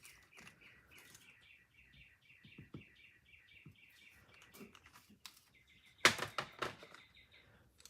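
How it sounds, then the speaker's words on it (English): Noisy birds outdoors chirping in rapid repeated trills, fairly faint and distant, with a louder burst of calls and flutter near the end. "Can you guys hear those birds out there?"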